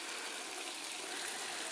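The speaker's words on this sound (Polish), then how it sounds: "Taki mamy przed recepcją ogródeczek z małym wodospadem." A small waterfall in a hotel garden in front of the reception in Madagascar gives off a steady, close rush of falling water with no talking.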